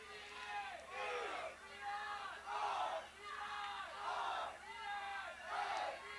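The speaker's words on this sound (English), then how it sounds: "The crowd is getting into it." Spectators cheer and shout at a 1993 boys' soccer game between TA and Deering, heading into overtime, in rhythmic swelling waves of massed voices roughly every second, heard at a moderate distance.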